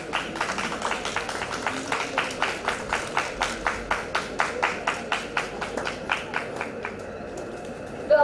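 Sustained audience clapping at a management research institute's international conference award ceremony, steady and fairly dense, with rhythmic accented claps recurring throughout and a brief louder burst at the very end.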